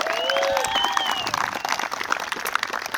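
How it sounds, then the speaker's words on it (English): Wedding guests clap and cheer after the ring exchange at a ceremony, a dense crowd applause with some whoops, while voices carry over the start of it. "One more round of applause."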